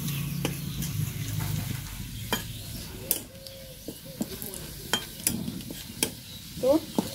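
Garlic sizzles softly in oil over a wood-fired clay stove, with scattered sharp clinks and scrapes of a utensil stirring the pan.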